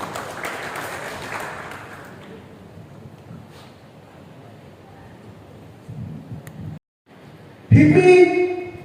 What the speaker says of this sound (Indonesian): Kita berikan tepuk tangan yang meriah Bapak Ibu.